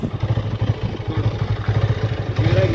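Motorcycle engine running with a steady, rhythmic low putter, close by, after being started with a key and button; the throb stays even throughout with light clatter and no talk.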